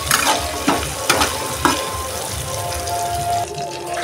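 Potatoes fried and stirred in spice paste for a lentil kofta curry, close sizzling with a few sharp spatula scrapes against the pan, steady and fairly loud.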